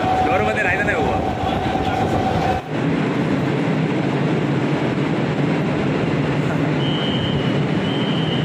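Doors lock on an air-conditioned Mumbai local train: a tone sounds, then a sharp thud cuts across the loud, steady rumble of the moving train, and a faint beep follows later.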